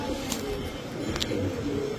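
Highflyer Giribaz pigeons, including a green-necked male, coo in low, soft, throaty pulses close by, alongside faint background voices.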